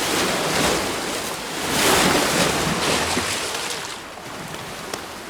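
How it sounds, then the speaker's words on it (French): Strong waves driven by an overnight wind crash onto a rocky seal haul-out shore, a continuous loud roar of surf with surging swells and wind noise, no voices. "de fortes vagues viennent se fracasser sur l'échouerie"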